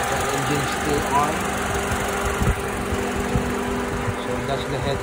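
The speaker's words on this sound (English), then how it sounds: "the engine is still on." A 2009 Honda CR-V engine idles as a steady low mechanical hum with a faint fan-like whir, running continuously and fairly close throughout without any revving.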